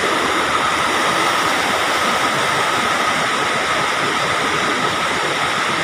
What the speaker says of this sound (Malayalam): നല്ല സൗണ്ടാണ് വെള്ളത്തിൻ്റെ ഒഴുക്കിന്